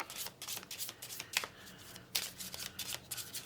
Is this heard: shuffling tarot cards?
yes